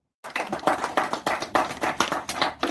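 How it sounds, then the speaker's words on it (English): An audience applauds Nigerian nationals with a short, steady round of clapping that begins abruptly and holds at a moderate, somewhat distant level. "A round of applause once more"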